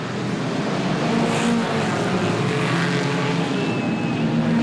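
Saloon stock cars race the final lap at Wimbledon in 1983, a continuous loud engine roar with a rising whine as they come off the last bend, with commentary running over it.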